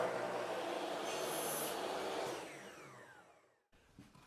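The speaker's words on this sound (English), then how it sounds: "I can line the molding up right with that kerf and make the first cut" A miter saw cuts wooden molding with a loud, close, whining roar that holds steady for a couple of seconds, then winds down as the blade spins to a stop, ending in a brief clunk.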